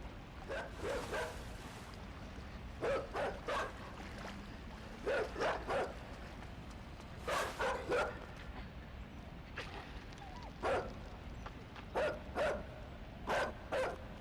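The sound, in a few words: dog barking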